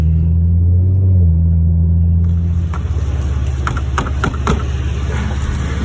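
A 2014 Ford Mustang V6 with a Roush axleback exhaust, a loud deep rumble that holds steady and then shifts as the engine revs, close and dominant throughout.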